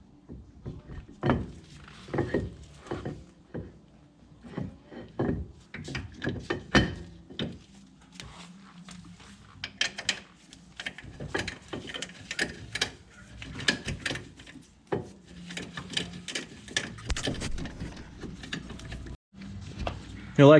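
Ratcheting tool clicks and metallic clanks as a Lamborghini Gallardo brake caliper is bolted back on, close bursts of ratchet turns with pauses and occasional knocks, a voice talking intermittently.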